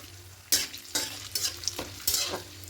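Khichuri with whole cumin, dried chillies, bay leaves and a handful of raisins is stirred in a hot pan, four or five distinct scraping strokes over a steady soft sizzle, close and fairly quiet, with no voices.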